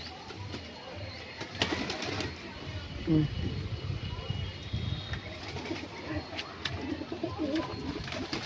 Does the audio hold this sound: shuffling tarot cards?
no